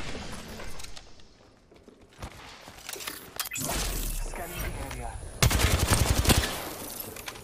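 Rapid automatic gunfire rattles in the video game Apex Legends, dense bursts that build and grow louder toward the end, mixed with impact and mechanical clatter while a voice talks faintly underneath.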